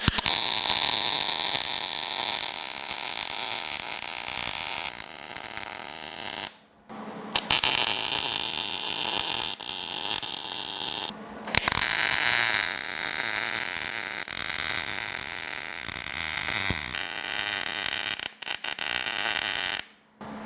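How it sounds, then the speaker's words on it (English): Continuous crackling buzz of welding on a GTO restomod rear axle clearance modification, loud and steady with several brief pauses where the arc stops and restarts. "I'm gonna get this welded up"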